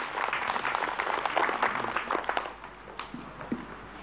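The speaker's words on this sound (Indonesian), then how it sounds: "Tepuk tangan buat Ustadz Abi Maki" An audience at an Islamic religious gathering claps loudly and close, then the applause thins and fades to scattered claps toward the end.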